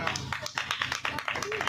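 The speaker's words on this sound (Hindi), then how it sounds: "भाई जोरदार तालियां बजाइए रोहित विश्वकर्मा जी के लिए" An audience claps in rhythmic bursts for the host of a Hindi kavi sammelan poetry gathering held in a Durga temple courtyard, with a voice talking over the applause throughout.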